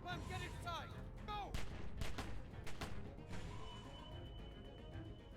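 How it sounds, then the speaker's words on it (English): Gunfire in Telltale's The Walking Dead video game, a short burst of several sharp shots amid loud game ambience and a voice, followed by a lingering ringing tone. "They do realize that shooting is only going to attract more walkers to them, right?"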